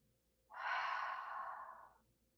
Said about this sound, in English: Just breathe naturally.